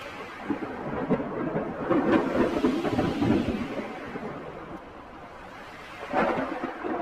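Steady rain falls in a jungle, with a low rumble rolling through the wash and rising again near the end, heard alone without voices.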